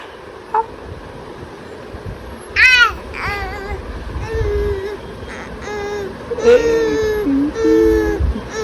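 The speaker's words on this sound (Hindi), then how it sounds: "वो रो रही है, चिल्ला रही है।" A baby girl cries and screams in several short, loud bursts between quieter stretches, with a few high wails near the end and no talk over them.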